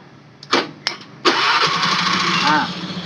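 A motorcycle being repaired for an electrical short gives a few sharp clicks and sputters, then its engine catches and settles into a steady, fairly loud idle close by.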